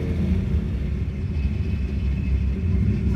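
A four-cylinder car engine with an aftermarket cam idles and rumbles low and steady nearby at a roll-racing event, with a slight rise in revs toward the end.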